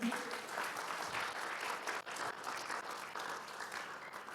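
A congregation applauds at a church worship service, a steady, dense wash of clapping filling the room for several seconds with no pauses.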